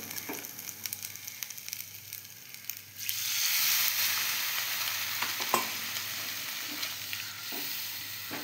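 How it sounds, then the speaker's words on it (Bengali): Water hits a pan of sautéed spiced potatoes. Soft clinks first, then a sudden loud, broad sizzle that swells and stays steady, with occasional stirring knocks and no voices. "মশলা আর আলু কষা হয়ে গেছে, এবার দিয়ে দেবো জল"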